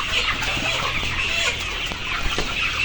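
A crowded flock of layer hens being readied for transport by bus in Kushtia clucks constantly, a dense, overlapping chatter of many birds close at hand with no pauses.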